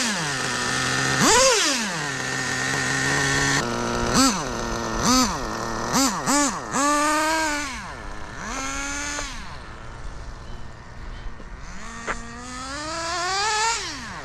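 A Novarossi 3.3 nitro engine in an HPI Savage X RC truck screams through repeated sharp revs and falls back to a high buzzing idle, loud and close, each blip rising and dropping quickly.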